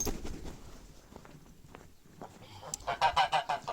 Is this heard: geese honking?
yes